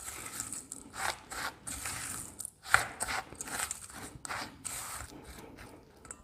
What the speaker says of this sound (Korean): 먼저 반 정도 넣어주고 비벼줍니다